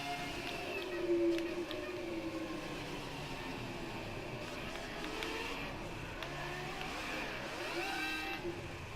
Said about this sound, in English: see what we can do in the 2004 Ferrari. Beautiful sound it is too.